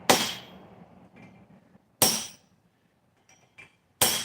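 Three loud, sharp metallic hammer strikes about two seconds apart, each ringing briefly, as a hand-forged double chisel is driven through wood resting on an anvil.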